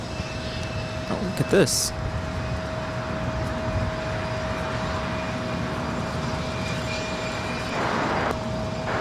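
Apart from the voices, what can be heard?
SAS Airbus A350 airliner crossing runway at LAX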